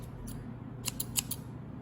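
Scissors snip thread in a short run of four or five quick, crisp cuts close by, faint but clean over a low background hum.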